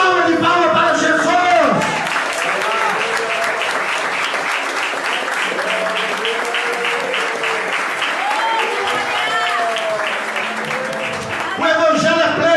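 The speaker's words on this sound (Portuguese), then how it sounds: "Dê uma salva de palmas para Jesus." Church congregation applauds during a Portuguese sermon, loud dense sustained clapping with crowd voices mixed in, holding steady for about ten seconds before speech returns.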